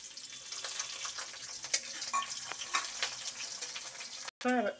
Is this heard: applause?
no